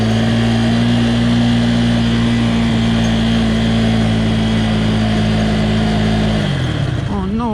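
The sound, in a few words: motorcycle engine cruising in first gear at night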